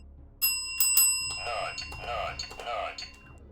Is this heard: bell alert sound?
yes